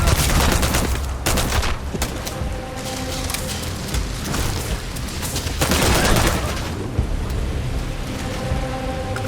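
Gunfire rattles through a firefight in the video game Starfield, loud sharp bursts and cracks overlapping in dense, irregular volleys with booming impacts throughout.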